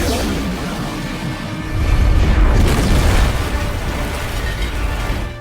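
A deep, rumbling explosion destroying a city in a monster film swells and roars for several seconds, loud and heavy with crackling debris, then slowly trails off.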